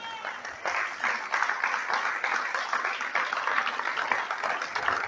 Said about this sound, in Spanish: Vamos, denle un aplauso al Señor.